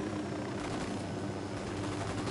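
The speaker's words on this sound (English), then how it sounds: "Is there a fucking helicopter nearby?" Helicopter in the tactical shooter Ghost Recon, flying nearby in the Mojocoyo province over a steady broadband rotor-and-engine roar that holds level throughout, with no talk over it.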